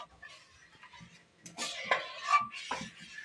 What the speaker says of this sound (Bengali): এটা পায়েসের মতন আমি ফুটিয়ে আঁচ কম করে নাড়িয়ে নাড়িয়ে ক্ষীরের মতো বানিয়ে নেব দুধটা